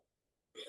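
A single short, sharp sneeze bursts out near the end after a near-silent stretch, close and fairly loud.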